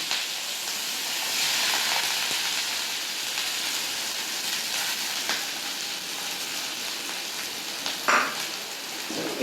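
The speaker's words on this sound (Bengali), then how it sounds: "এই তেলের মধ্যে আমি যে পেঁয়াজটাকে কুচিয়ে রেখেছি সেই পেঁয়াজটাকে আমি প্রথমে দিয়ে দিচ্ছি" Chopped onions frying in mustard oil in a wok, a steady loud hiss and sizzle filling the whole stretch, with occasional stirring clicks near the end.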